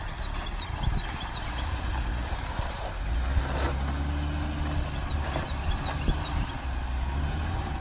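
A Jeep Gladiator Rubicon with a 4-inch lift on 38-inch tires climbs a rocky construction-site hill off-road, its engine rumbling low and steady throughout with occasional crunches and knocks from the tires over rock.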